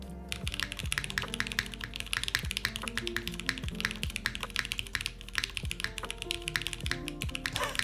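Rapid, continuous clacking keystrokes on a CW60 custom mechanical keyboard, close and crisp, with an uneven typing rhythm and occasional heavier key hits, no talking.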